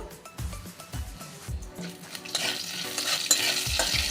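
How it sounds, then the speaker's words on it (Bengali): Panch phoron spices frying in hot ghee produce rhythmic spoon-stirring scrapes at first, then a brighter, louder sizzle and crackle that swells and keeps going close by, with no talking. "দেব এক চামচ পাঁচফোড়ন"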